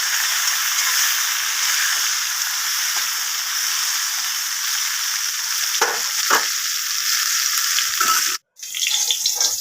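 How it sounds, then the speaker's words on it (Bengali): Eggplant stir-fried in a pan, a loud steady sizzle with a few scraping stirs, then a sharp clatter and a brief break before the hiss resumes, close up and without talk. "দেখুন এবার বেগুনটা নেড়ে চেড়ে ভেজে তুলে নেব।"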